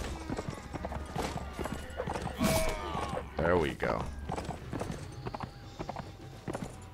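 A horse in the medieval combat game Mount & Blade: Warband clip-clops along with repeated hoofbeats, a few neighs and battle noises, while someone talks briefly over it.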